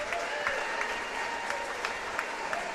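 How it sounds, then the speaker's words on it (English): A home crowd gives a standing ovation at a boys' high school basketball game between Jackson Center and Cincinnati College Prep, steady sustained applause filling the gym with sharper claps and cheers popping out in the final seconds. "Standing ovation for the Tigers as the seconds count down."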